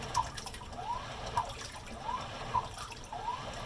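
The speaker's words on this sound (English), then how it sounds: "Literally, the water sloshing around is louder than the motor and the agitator." Water sloshes rhythmically inside a GE Profile top-load washer during a low-water wash, regular swishing surges about once a second over a quiet motor and agitator.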